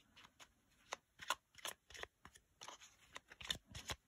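Tarot cards are handled and laid out for a cross spread, giving soft rapid riffles, flicks and papery slaps in quick irregular bursts, close and faint with no talking.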